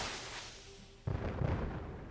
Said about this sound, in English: There's just explosions everywhere